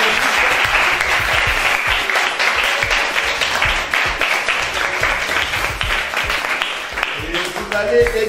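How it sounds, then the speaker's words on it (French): An audience at a school event claps loudly and continuously for the school director, a dense wash of applause with scattered louder hand claps and faint voices mixed in. "Vous devez applaudir pour madame la directrice."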